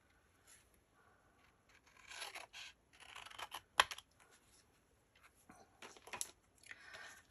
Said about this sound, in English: And then we are going to cut our circle in half.